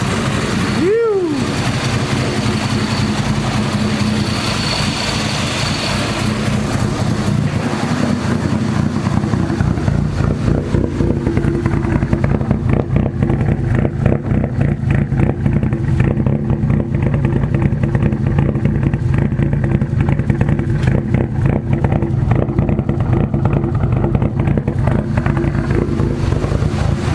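A freshly built Nissan SR20DET engine with 272 cams, just started and warm, idling lumpy and loud with a steady throbbing drone and a quick rev at the start, as a voice talks over it.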